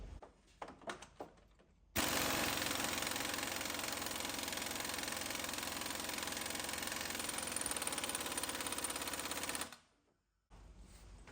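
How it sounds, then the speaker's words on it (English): An impact wrench works a bolt on a truck engine during an LS cam swap, one long, loud, close, rattling burst of about eight seconds after some faint clinks, then stopping abruptly. "Let's see if the impact will take care of the rest of it."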